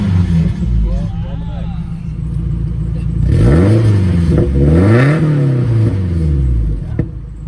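A Nissan S14 with one catalytic converter and the muffler deleted revs hard several times, its loud, raspy exhaust note climbing and falling in close, repeated sweeps.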